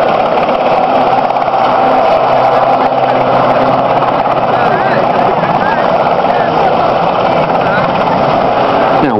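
A Sea King helicopter at an East Fortune air display runs with a loud, steady engine and rotor drone that stays constant throughout, with a voice speaking over it.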